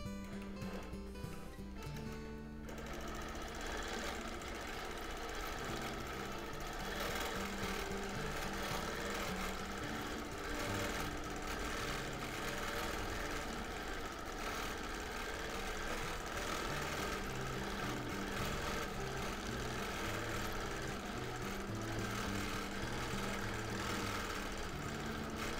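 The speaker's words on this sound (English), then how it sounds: "So once again, I am stitching on a Bernina Q24." A Bernina Q24 longarm sewing machine runs with its stitch regulator during free-motion quilting of a whole cloth, giving a steady, rapid mechanical hum and needle chatter that starts after a brief quieter moment and continues closely throughout.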